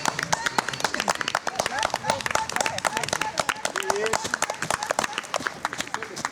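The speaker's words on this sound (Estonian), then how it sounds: "finiš, võtame aplausiga vastu Tanel Leisalu" A crowd claps steadily to welcome a runner crossing the finish line at an outdoor race, the applause crisp and continuous throughout, with an announcer's amplified voice talking over it.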